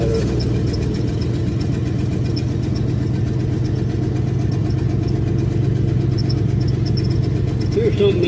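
A warmed-up car engine idles steadily, a loud, even low rumble that holds without revving for several seconds, with no voices over it.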